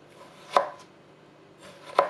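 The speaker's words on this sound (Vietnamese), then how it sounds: "Cắt xéo xéo." Knife slicing a cucumber on a cutting board, two crisp separate chops about a second and a half apart, close and clear with no voices.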